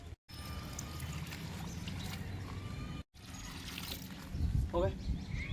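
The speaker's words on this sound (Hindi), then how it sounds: "और पानी डालते हैं फिर इसमें।" Water poured from a container into a mason's mix of mortar, a steady close splashing trickle that rises in the final second, with a brief cut in the middle and busy work noise underneath.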